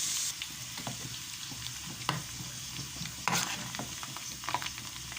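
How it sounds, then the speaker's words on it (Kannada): Onions frying toward golden brown for Karnataka-style vegetable sambar, a constant close sizzle broken by several sharp spatula scrapes and knocks against the pan. "ಅದಕ್ಕೆ ಸ್ವಲ್ಪ ಈರುಳ್ಳಿ ಚೆನ್ನಾಗಿ ಗೋಲ್ಡನ್ ಬ್ರೌನ್ ಆಗಲಿ."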